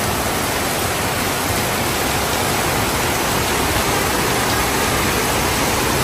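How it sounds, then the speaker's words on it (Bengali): Heavy rain falling in a thunderstorm makes a loud, unbroken hiss of dense water noise, steady and close, with no other sounds standing out. "থান্ডারস্টর্ম।"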